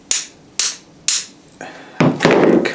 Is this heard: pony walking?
no